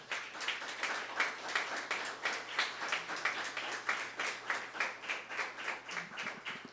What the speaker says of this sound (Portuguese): Eu queria pedir para vocês que a gente desse uma salva de palmas agora para esse nosso companheiro.